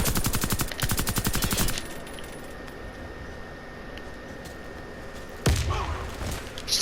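Rapid rifle gunfire from the online shooter Warface, a dense rattling burst up front, then a lull of quieter game ambience before a second loud volley near the end.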